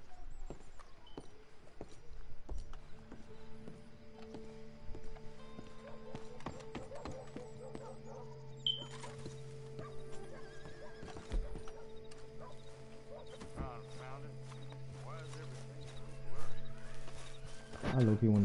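Horses in Red Dead 2 clip-clop at a walking pace with a whinny partway through, mixed with game ambience and steady music, while a voice talks over the top.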